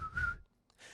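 Short whistled melody from the opening of the Ed, Edd n Eddy cartoon, a faint wavering whistle note followed by a brief pause and a second soft whistled phrase.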